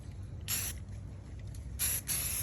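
Two short bursts of aerosol spray paint hiss onto the bolts of a rusty hitch-mounted cargo rack, a brief spray followed by a longer one over a quiet background.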